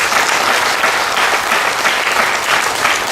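Dense, loud applause from an audience at a Hindi spiritual talk, a continuous wash of many hands clapping with no pauses for the whole stretch.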